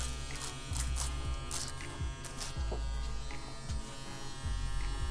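A CNC CW2 wireless tattoo machine buzzes steadily and close up, a continuous electric hum with a few faint clicks over it, and no talking.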